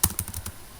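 Quick keystrokes on a computer keyboard while typing HTML code, five or six light clicks in a fast uneven run lasting under a second, close and clear with no voice.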